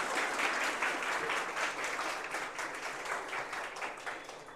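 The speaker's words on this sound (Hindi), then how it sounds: "तो एक बार मेरे लिए ताली बजा दे।" A seminar hall full of students breaks into sustained, dense applause, loud and steady before tapering slightly toward the end.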